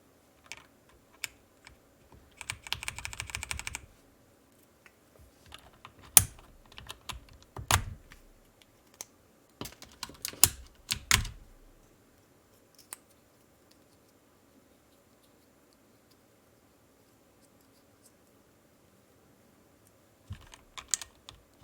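Keycaps are pried off an NZXT keyboard in scattered bursts of sharp plastic clicks and rattling taps, separated by quiet pauses, close and fairly faint with no talk.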